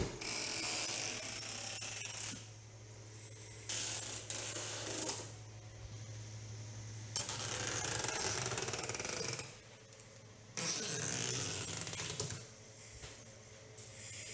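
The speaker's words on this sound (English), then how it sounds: "I started with a socket screwdriver and then went back and retightened with a ratchet for more leverage." Ratchet tightening the four 10mm bolts on an Integra Type S spoiler, bursts of fast clicking in several separate runs with quiet pauses between them, close up.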